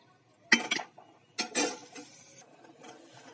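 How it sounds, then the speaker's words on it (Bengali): Khichuri with boiled chickpeas and split peas stirred in a metal pot: two bursts of scraping, clinking spoon strokes, close and fairly loud, separated by a short pause, then quieter rustling. "এবার এর মধ্যে আমি দিয়ে দিচ্ছি আগে থেকে সেদ্ধ করে রাখা ছোলা আর মটরের ডাল। এটা দিয়ে এটাকে একটু ভালো করে নেড়ে ছেড়ে দিচ্ছি।"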